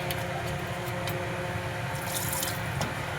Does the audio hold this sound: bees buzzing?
no